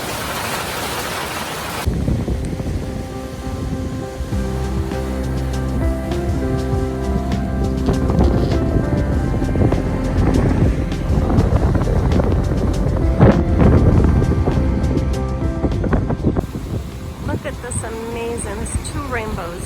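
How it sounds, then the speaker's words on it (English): Hail pelts a catamaran during a winter storm in Turkey, a dense, loud roar of countless small impacts with scattered sharper hits and gusting wind noise across the whole stretch. "That's hail. That is hail."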